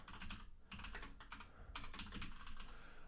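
Someone types a name on a computer keyboard, a fast, close clatter of keystrokes in short runs with brief pauses, nothing else audible.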